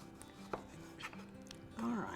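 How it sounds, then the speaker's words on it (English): A kitchen knife slices Roma tomatoes on a cutting board in a few soft, separate cuts, quiet and close. "I'm just going to trim the end off. And then we're going to come in and just do some pretty slices."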